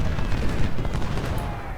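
A dense musket volley rattles in a Civil War battle game, a loud continuous burst of overlapping shots filling the short moment.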